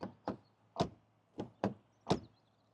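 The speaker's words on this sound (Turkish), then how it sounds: "Şoför kapısının tokluk sesine bakacak olursak" Six sharp, solid thuds of the driver's door of a 2017 Volkswagen Tiguan 1.6 TDI shutting, spaced unevenly over a few seconds, close by with a low steady hum underneath.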